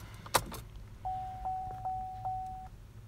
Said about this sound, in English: we'll just pop the key in, turn the ignition